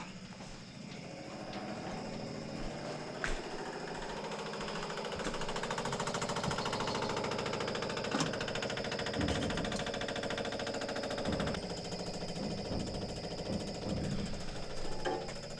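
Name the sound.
electric fuel pump running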